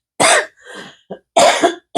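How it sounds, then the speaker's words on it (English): A person with Covid coughs in two loud, close bursts separated by a softer throat-clearing rasp, with a brief cough fragment in the gap and another starting at the end. "so I can stop coughing in your ear"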